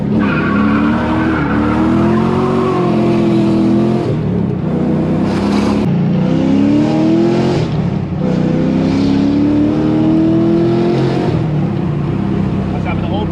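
An LS-swapped Nissan S14 fitted with Valvetronic Designs universal mufflers revs loudly and close, the engine note rising and falling in repeated pulls, with some tire squeal and voices talking over it.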